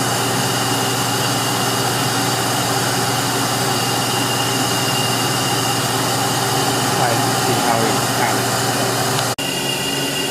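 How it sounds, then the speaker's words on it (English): A Yang Engineering single-valve reverse-uniflow engine runs steadily in a demonstration, a constant droning hum held throughout with a brief cut near the end, and voices talking faintly underneath. "We are trying the Yang Engineering system, the single valve engine, and this demonstration."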